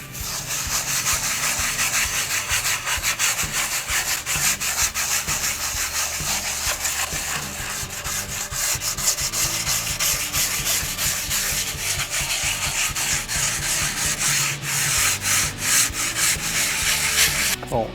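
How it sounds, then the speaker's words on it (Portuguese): Sandpaper rubbed lightly over smooth wood that has already been sanded, ahead of decorative painting. Continuous, steady back-and-forth scratchy strokes sound close and fairly loud throughout, with no voices. "a madeira não está muito áspera, ela já foi passada por uma lixa, então eu vou passar de leve, sem apertar muito"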